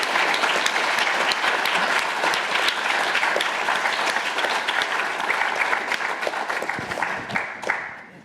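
A lecture audience at a talk on lynx recovery in Europe breaks into full, steady applause that holds at a constant level and tapers off in the final second.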